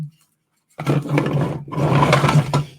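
A loud, raspy growl or yowl erupts after a short silence, rough and sustained in two long bursts with a brief break between them, close by.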